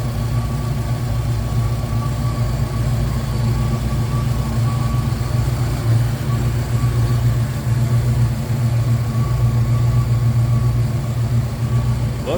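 A restored 1965 Ford Mustang Coupe with a 289 V8 and aluminum pulleys idles steadily and close by, with a smooth, even rumble and no talking throughout.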